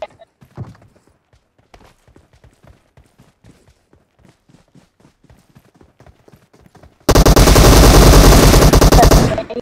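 Machine gun fire in a mobile shooting video game bursts in loud and continuous for the last few seconds, after a quiet stretch of soft game footsteps and faint clicks.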